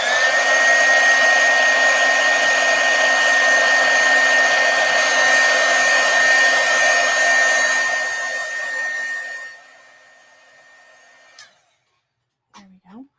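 A heat tool dries ink on stamped paper for a seashell papercraft, a steady loud whirring blow that runs for about nine seconds, then winds down and cuts off, followed by a couple of faint clicks.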